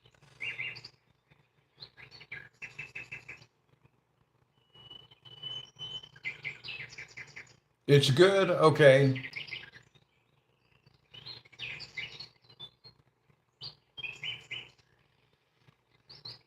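Recorded birdsong playing from a sound machine: short chirps and tweets in repeated bursts, fairly faint, with a brief spoken exchange partway through.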